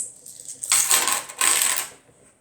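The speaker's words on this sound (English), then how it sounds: "You'll need a bunch of coins, and I chose pennies" Pennies dropped in two quick bursts, each a bright metallic clatter of many coins landing together, close and fairly quiet, with no voices.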